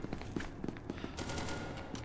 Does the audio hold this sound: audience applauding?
no